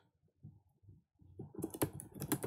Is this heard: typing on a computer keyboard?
yes